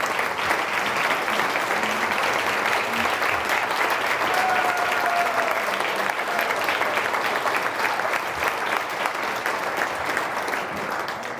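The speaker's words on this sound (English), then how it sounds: "I'd like everybody to give them a round of applause" A large evening audience at a charity event applauds its staff, board and volunteers with long, dense, even clapping that fills the room, with a faint hum of voices beneath.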